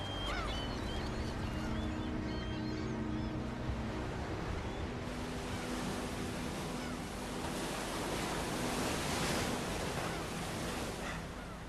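Sea waves wash continuously onto a shore in a broad, steady roar that swells slightly midway, with a faint tonal backdrop early on and no talking.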